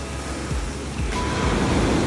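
Waves roll steadily onto the shore of a very salty lake at Fethiye, Turkey, a loud continuous wash of surf with wind buffeting the microphone and no voices.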